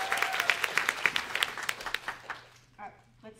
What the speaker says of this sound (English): We give a round of applause for our applause.